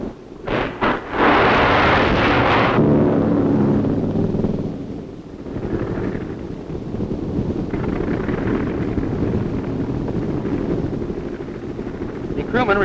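An aircraft carrier catapult fires to launch a plane from the flight deck, a loud roaring blast and rush after brief thumps, followed by sustained heavy wind and jet roar.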